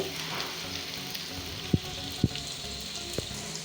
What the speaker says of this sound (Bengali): পেঁয়াজ আর রসুনগুলি আমি 30 সেকেন্ড ভেজে নিব।